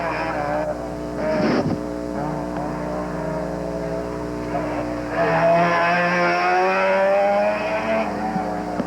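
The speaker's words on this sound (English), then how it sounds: "This is probably the second loudest car in the course." Mazda RX-7 autocross car with a ported 13B rotary engine at a Solo 2 national event, droning loudly with a steady harmonic buzz and rising revs midway as the car runs the course.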